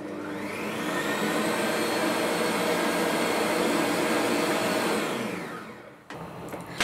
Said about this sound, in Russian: добавляю щепотку лимонной кислоты и взбиваю еще около 4 минут на 5 скорости